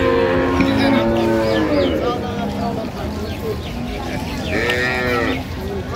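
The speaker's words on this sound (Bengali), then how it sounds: "একেবারে সেরা মানের গাভী বাছুর" Cows and calves at a busy rural cattle market mooing repeatedly, several drawn-out low calls close by and in the background, under constant crowd chatter and nearby voices.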